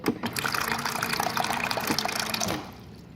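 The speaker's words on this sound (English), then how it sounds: "show y'all what happens whenever cold water is introduced into the gallium's environment very quickly" Cold water is poured quickly onto gallium, making a continuous close splashing, gushing fill for about two and a half seconds before it cuts off to a faint hiss.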